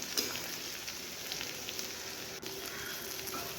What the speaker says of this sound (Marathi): आणि हळद पण एक चमचा टाकायचे आणि परतून घ्यायचं आहे हे